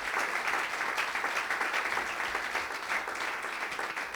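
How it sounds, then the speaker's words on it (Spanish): Steady applause for the Lord fills a church service, an even, continuous patter of many hands clapping at a moderate distance with no voices over it. "Le da un fuerte aplauso al Señor en esta noche"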